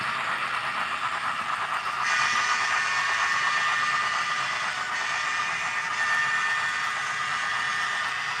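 An N scale model train with an E8 locomotive runs on a Horseshoe Curve layout, giving a steady whirring, hissing hum that swells slightly partway through and stays continuous and close, with no voices.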